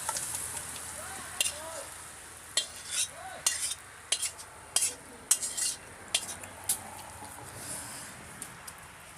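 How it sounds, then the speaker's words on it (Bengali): Sugar sizzles in hot mustard oil in a wok, a bright crackling hiss broken by sharp clattering scrapes and taps of a utensil at irregular intervals. "কড়াইতে দিয়েছি সরষের তেল, তার উপরে দিয়েছি একটু চিনি।"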